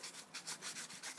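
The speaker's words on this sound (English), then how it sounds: "I'm going to give it a quick wipe down with some 1000 grit sandpaper" A lacquered wooden pendant is rubbed with 1000 grit sandpaper: about eight soft, rhythmic scratchy strokes, close and quiet, with no talking.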